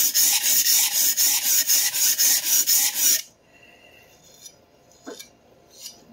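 Stainless steel santoku kitchen knife sharpened on a whetstone: rapid rhythmic rasping strokes for about three seconds, close and loud, then quiet with a few faint scrapes and taps.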